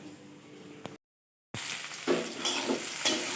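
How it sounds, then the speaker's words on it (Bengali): Potatoes and ivy gourd frying in a pan for breakfast, hissing steadily, then a short silent gap, followed by louder sizzling with stirring scrapes, close by and without speech. "এই সকালে টিফিনের জন্য আলু কুঁদরি ভাজা হচ্ছে"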